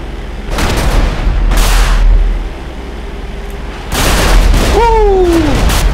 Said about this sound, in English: We could drop the bombs, we could drop them.